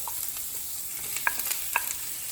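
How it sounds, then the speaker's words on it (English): Onions hit hot oil with a soft continuous sizzle, punctuated by a couple of sharp utensil clinks against the pan. "I'm gonna be putting my onions into the pan, and you hear a nice sizzle."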